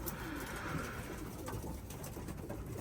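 Pigeons coo softly in a garden loft, a low, faint, murmuring call under a steady background hiss that runs for a few seconds.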